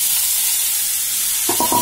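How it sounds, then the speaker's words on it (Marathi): Grated red pumpkin fries in two spoons of oil in a kadai on a gas stove, giving a steady close sizzle with a few clattering stirs near the end. "इथे आपण गॅसवरती कढई तापत ठेवली आहे, त्याच्यामध्ये मी 2 चमचे तेल घालते. आता याच्यामध्ये आपण भोपळ्याचा किस बांधून घेऊ."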